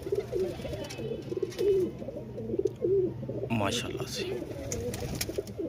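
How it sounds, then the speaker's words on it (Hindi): A white-eyed pigeon coos in a steady, repeated rhythm close by, its low throaty calls running under a voice talking over it for most of the stretch. "सफेद आंखों का कबूतर है, बड़ा शानदार कबूतर है"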